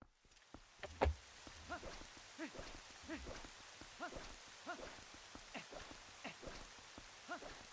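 Faint rain falling in Zelda: Twilight Princess, a soft steady patter with a quiet hiss and a few slightly louder drips, no talking.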